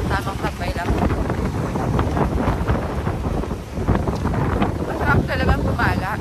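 Strong wind buffets the microphone in a loud, continuous roar, with a voice talking underneath.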